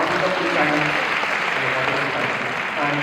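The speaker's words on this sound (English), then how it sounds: "Let's give a big round of applause to FICCI, please." A large audience at a talk event gives a sustained, dense round of applause for the event's organizers, steady and loud with a faint murmur of voices underneath.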